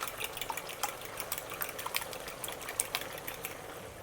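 Two eggs are beaten for a Chinese-style silky beef and egg stir fry, giving a quiet, quick, irregular sloshing and clicking of liquid egg being whisked close by.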